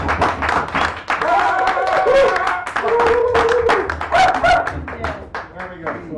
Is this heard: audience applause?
yes